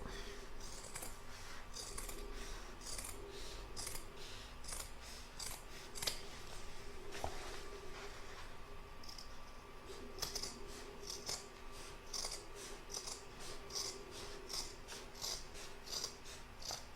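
Scissors snipping through fabric while trimming a lined crazy-patch bag made in the embroidery hoop, a steady series of crisp close cuts repeating every half second or so, quiet and alone.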